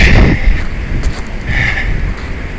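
Wind gusts on a bridge rumble loudly against the microphone in a short, blustery burst.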